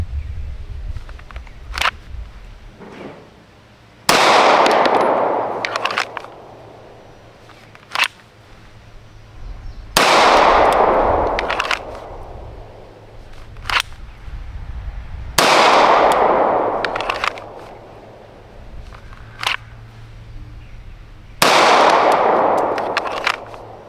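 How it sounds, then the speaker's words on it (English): A Wilson SFX9 pistol fires four loud single shots drawn from the holster, spaced roughly six seconds apart, each a sharp crack with a long echoing tail, with faint clicks and handling noises between them and no talk. "So 10 rounds, 1 round each from the holster."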